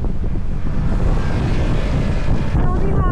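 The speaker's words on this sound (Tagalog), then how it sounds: "Grabe hangin." Strong wind roars steadily into the microphone on a mountain road at Malico, a dense, loud rumble with no break, and a faint voice is heard near the end.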